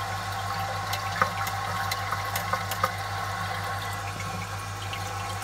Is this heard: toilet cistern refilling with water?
yes